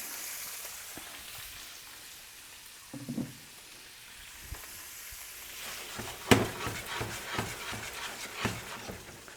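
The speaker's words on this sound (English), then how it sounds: "warm it up gently in some melted butter" Cooked lobster warming gently in melted butter in a pan over very low heat, a soft sizzle and crackle that grows busier as the pieces go in, with scattered light pops and clinks close by.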